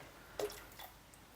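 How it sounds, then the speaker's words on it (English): Dissolved citric acid is poured into a hot sugary feed mix for native bees, giving a single brief wet splash and drip, followed by a few faint trickles in an otherwise quiet setting. "then we pour in our dissolved citric acid"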